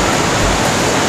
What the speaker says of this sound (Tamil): தண்ணி சவுண்டு பார்த்தீங்களா